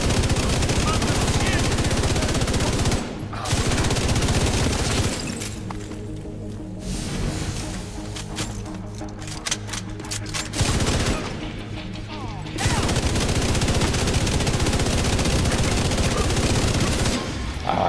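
The Iron Lung exotic LMG in The Division 2 fires sustained bursts of rapid, loud automatic fire with incendiary bullets, broken by short pauses and mixed with impact crashes and faint game sounds.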